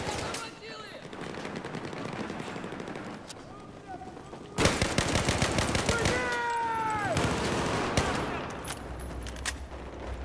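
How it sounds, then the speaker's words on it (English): Video game gunfire rattles in rapid automatic bursts and single cracks, loud and close, with a heavier volley in the second half and a player's voice talking over parts of it. "We're not clear over here because I hear some shots"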